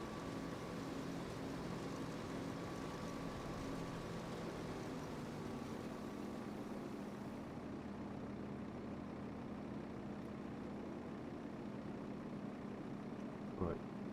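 A tractor engine in Farming Simulator 25 idles with a steady, low droning rumble that holds throughout at a moderate distance, with no talking over it.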